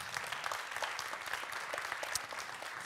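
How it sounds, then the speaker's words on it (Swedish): A conference audience applauds the speakers after a panel discussion, a quiet, even wash of clapping from many hands lasting the whole stretch. "Stora applåd för våra talare."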